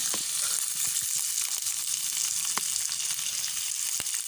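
Chopped onion sizzling in hot cumin tempering oil in a pan, a continuous close crackling sizzle with a few light clicks, no talk.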